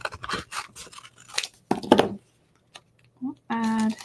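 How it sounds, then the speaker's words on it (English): Scissors snip out a paper flower piece for a mini album: a run of close, crisp cuts with brief pauses, while a voice talks intermittently. "Cut this out."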